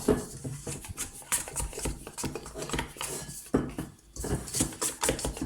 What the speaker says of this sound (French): je récupère ma palette et je viens comme ça décoller ma pâte